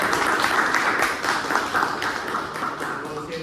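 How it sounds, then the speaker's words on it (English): An audience at a Toastmasters club meeting claps in a steady, moderate round of applause, heard at mid distance throughout. "A big round of applause for the table topic master."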